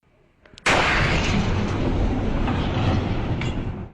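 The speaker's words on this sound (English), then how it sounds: "An asteroid attack was recorded in Russia on February 15, 2013." A sudden deep, roaring blast from the Russian asteroid explosion of February 15, 2013, hitting hard after a couple of faint ticks and rumbling on loudly for several seconds before cutting off.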